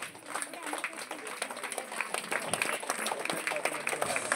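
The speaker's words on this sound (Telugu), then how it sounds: "ఇక్కడ ఉన్న వాళ్ళందరూ కూడా చప్పట్ల ధ్వనులు బయట దాకా వినిపించాలి." A crowd claps together at the Sri Pabba Anjaneya Swamy temple in Sanath Nagar during a Vasavi Kanyaka Parameswari celebration: dense, steady applause that lasts throughout, with a faint murmur of voices underneath.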